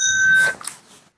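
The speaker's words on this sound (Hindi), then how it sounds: "अचानक घंटी बजी" A bell rings once, a bright tonal strike with a clear ringing tail that decays over about half a second, followed by a few faint knocks and then silence.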